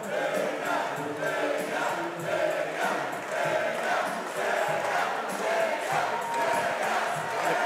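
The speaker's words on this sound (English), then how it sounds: "crowd definitely getting behind the local fighter here" An arena crowd at a Cage Titans MMA fight chants in a rhythmic, swelling roar that continues steadily throughout, loud and mixed with scattered shouts.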